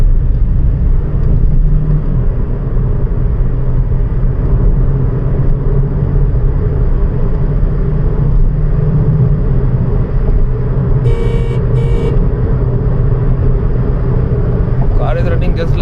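A Toyota Corolla Altis 1.8 automatic running on a CNG kit makes a steady, smooth engine and road rumble from inside the cabin. A brief high-pitched chirp comes near the middle and a rising whine near the end.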